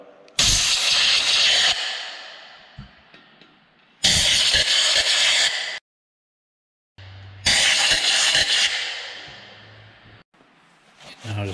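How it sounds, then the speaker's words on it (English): An air blower hisses in three loud close bursts, each a second or two long, with short quiet gaps between, blowing out thread holes in a Ford 4.6 aluminum Teksid engine block. "So you're just going to take your blower, shove it down in there"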